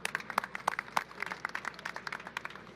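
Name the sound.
audience applause for Assemblymember at flag raising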